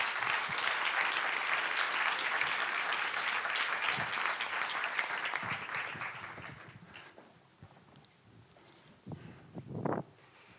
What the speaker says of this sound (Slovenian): Najprej pa jih pozdravimo z velikim aplavzom